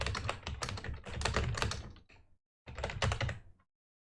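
Rapid clattering keystrokes on a computer keyboard, close and dense, run in two bursts separated by a short pause.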